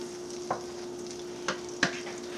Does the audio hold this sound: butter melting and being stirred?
yes